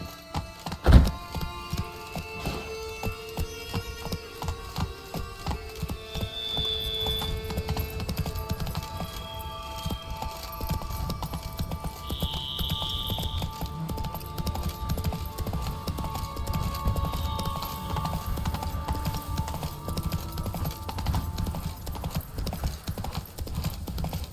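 Roach, the horse in The Witcher 3: Wild Hunt – Blood and Wine on PC, gallops with continuous rhythmic hoofbeats over ambient game music, after a single loud thunk at the start.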